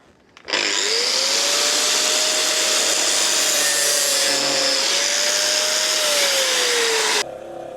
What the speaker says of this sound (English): I found an angle grinder. I cut it at a wee angle.